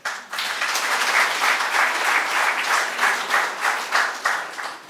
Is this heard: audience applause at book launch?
yes